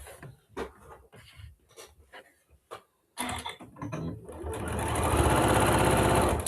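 A sewing machine stitching fabric scraps together for crumb quilting patchwork, starting after some quiet handling clicks and rustles, then running in a steady, close, rapid mechanical whir for the last few seconds.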